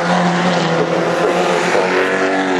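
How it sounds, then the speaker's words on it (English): A race car roars close by at Goodwood, its engine note loud and sustained with a high, buzzing whine that shifts slightly as it passes. "that was John Monson's car, definitely"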